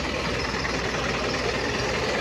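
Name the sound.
motorcycle engine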